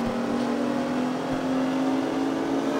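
A BMW engine drones and revs in the CarX Street racing game, a steady, continuous hum of the motor held at a constant level with no talking.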